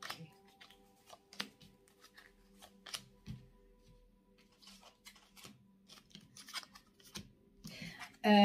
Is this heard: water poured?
no